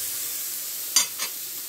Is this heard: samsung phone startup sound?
no